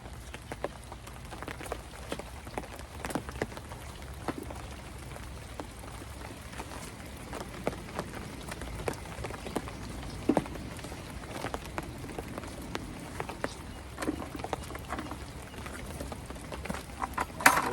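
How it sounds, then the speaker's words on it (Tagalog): Steady rain falls outdoors during a lady finger (okra) harvest, a dense continuous patter with scattered louder drops, fairly close and unbroken, with no talking. "Ulan na naman guys."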